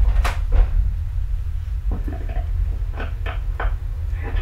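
Doors of a 6050 series Yagan Railway train closing before departure: several sliding thumps and clunks in a row over a constant low motor hum, fairly close, with no talking.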